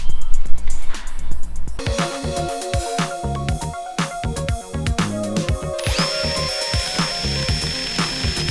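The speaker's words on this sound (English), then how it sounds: "I also have to drill out this hole to make enough room for this" A power drill bores out a hole on a Datsun 280ZX during a rear coilover install, starting after a short pause and whining steadily up close with rising pitch near the end, over scattered clanks of the workpiece.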